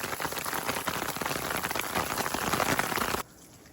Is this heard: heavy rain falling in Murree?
yes